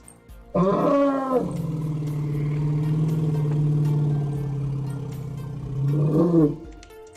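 A lion in the video game The Great Circle gives one loud, drawn-out roar that swells, holds for several seconds and ends in a final rasping burst, close and alone.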